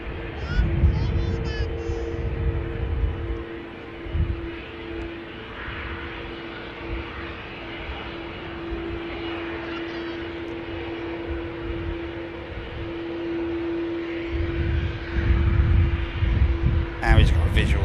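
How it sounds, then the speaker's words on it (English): A Cessna Citation XLS lands at Manchester Airport using reverse thrust, a low rumbling roar that swells at the start and again near the end, with someone talking steadily over it. "Pocket reverse has been brought into play. Cessna Citation XLS."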